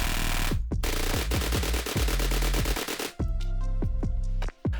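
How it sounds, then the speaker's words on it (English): Sustained automatic gunfire from M16 and M4A1 rifles in DayZ, about sixty rounds in rapid bursts with dense repeated cracks and booming low thumps, loud and close, with a brief pause near the end. "here is 60 rounds from both weapons"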